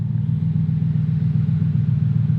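A 2020 Corvette rumbles steadily as it is driven onto a transport truck, its low engine drone continuous and fairly close with no voices over it.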